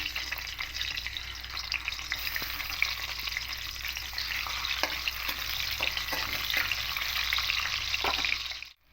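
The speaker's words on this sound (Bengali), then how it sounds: "ডিমগুলোকে একটু হালকা করে ভেজে নেবো" Steady, loud sizzling of eggs frying in oil fills the whole stretch, with occasional soft clicks and scrapes.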